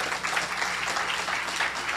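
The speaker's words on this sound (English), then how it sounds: "A round of applause, please." Applause from an audience at a poetry evening held inside a prison, a steady dense wash of many hands clapping that continues evenly throughout without pause.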